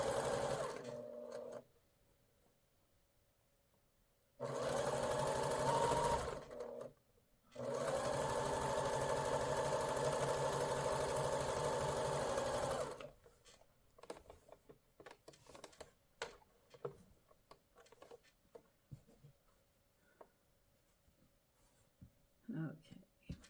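Sewing machine stitching a quilt block, two loud continuous whirring bursts of a few seconds each separated by pauses, followed by quieter handling clicks and fabric rustling.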